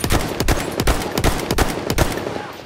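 Battlefield 1 gameplay gunfire: loud, rapid bursts of shots fire in a steady, repeating rhythm across the whole moment, with no talking.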